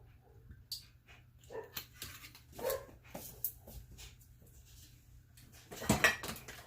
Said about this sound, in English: Their dog is barking at the kids on the school bus